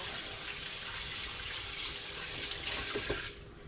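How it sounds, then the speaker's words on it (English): Tap water runs steadily into a kitchen sink while hands are rinsed beneath it, a close, continuous gush with a few splashy bumps before the flow cuts off near the end. "Let me rinse my hands off here real quick."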